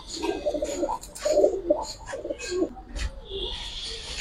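A pair of green pigeons, a variety also called sky pigeons, coo in a steady series of soft, throaty calls, each a few rolling notes, close by and clear with no talk over them.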